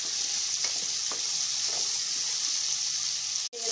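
Small onions fry in oil with a steady, even sizzle, joined by a few light stirring scrapes and a sharp clatter near the end; no one speaks.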